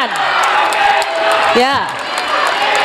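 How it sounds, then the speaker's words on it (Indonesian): Sustained audience applause and cheering fills a hall at a 2024 presidential debate in Indonesia, loud and continuous, honouring three candidates, with a speaker's brief voice and a whistle-like whoop rising over the clapping. "Sekarang boleh saya kasih waktu untuk berikan tepuk tangan bagi ketiga calon presiden."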